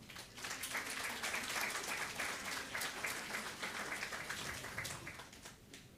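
A church congregation at a New Year service claps for a member being called forward. The applause is a continuous, fairly distant and quiet patter of many hands lasting about six seconds, with no talk over it.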